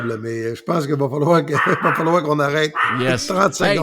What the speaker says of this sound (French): C'est un bon chien de garde.